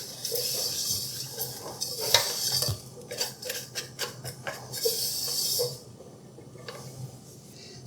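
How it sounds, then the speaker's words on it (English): Cornstarch and salt are stirred in a bowl, a spoon clinking and scraping against the sides in quick irregular strokes at moderate volume, then easing to a quieter scrape near the end. "We're gonna go ahead and stir this in here just to combine this"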